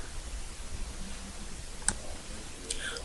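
A single short computer mouse click, quiet and close, stands alone against faint steady background hiss.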